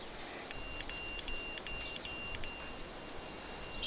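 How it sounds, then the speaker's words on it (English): On an outdoor construction site for a new carport and barn foundations, an electronic device gives a faint, high, steady beeping. It repeats in short bursts under wind and ambient noise. "So if you hear the constant beep"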